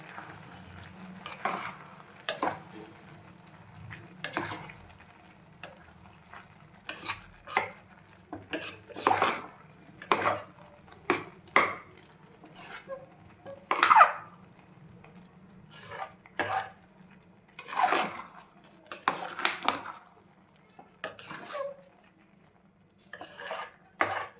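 Jaggery syrup being stirred in a pot for sugarcane-juice sweet pongal, with repeated scraping and clanking strokes of a utensil against the metal at an uneven pace, close and fairly loud, over a low steady hum.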